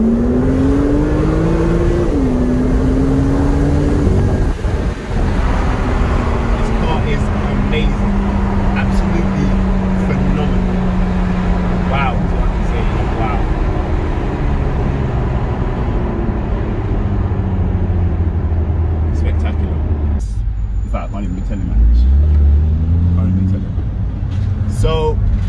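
A BMW M2 engine pulls hard on a test drive after a rebuild, its rising drone through second gear loud and continuous inside the cabin, with a brief dip near the end.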